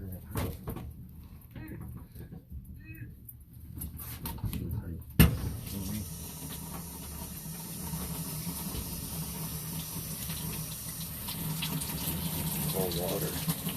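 Tap water runs steadily into a sink in a bathroom or kitchen, a broad continuous wash that starts abruptly partway through after a quieter stretch with some talk and rattling, then flows on unbroken at moderate loudness.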